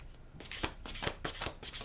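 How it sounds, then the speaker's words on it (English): A deck of angel cards being shuffled by hand during a reading, with repeated soft riffling bursts of card noise in an uneven rhythm, close and fairly quiet, with no voices. "One more shuffle for Aries."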